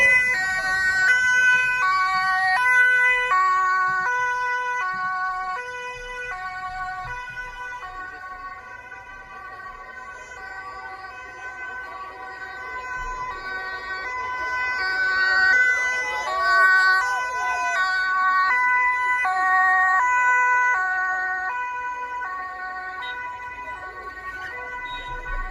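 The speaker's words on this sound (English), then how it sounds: "This is some more scene of emergency vehicles," Wailing sirens of several emergency vehicles, including ambulances, arriving at the scene of a mass stabbing in an Amsterdam square; overlapping two-tone and sweeping wails rise and fall at moderate distance across the whole stretch.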